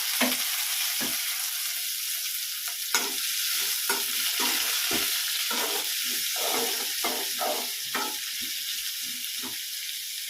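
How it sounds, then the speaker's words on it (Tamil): Sliced onions and curry leaves fry in hot oil with mustard seeds for prawn thokku, producing a continuous close sizzle broken by frequent scrapes and stirs of a spatula. "எறா தொக்குக்கு இந்த வெங்காயம் போட்டுக்கலாம். வெங்காயம், கருவேப்பிலை"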